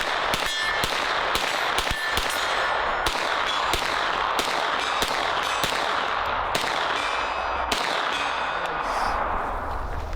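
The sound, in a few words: gunfire with bullets hitting steel targets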